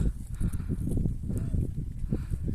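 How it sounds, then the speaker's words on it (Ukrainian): Horse hooves clip-clop at a steady walking pace along a mountain route in the Carpathians, sounding fairly near as dull thuds under low rumbling background noise. "Гоцули на конях їздять."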